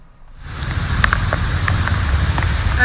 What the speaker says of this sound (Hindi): अभी भी लगातार बारिश का दौर जारी है